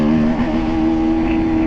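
A TVS Apache RTR 310 motorcycle accelerates in second gear in urban mode, its engine droning loud and close with a steady, slowly rising hum throughout.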